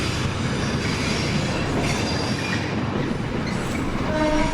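Steam locomotive 34067 Tangmere rumbles and rolls steadily into Carlisle station, with faint wheel squeal and high metallic tones rising near the end, continuous and fairly loud.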